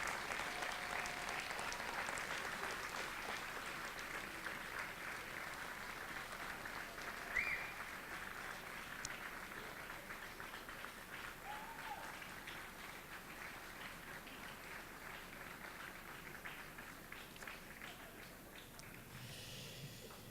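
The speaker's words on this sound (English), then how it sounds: "give them a rousing hand applause of gratitude for all they've done" Sustained applause from a graduation audience at a law school commencement ceremony, a steady wash of many hands clapping that holds for the whole stretch and slowly thins near the end.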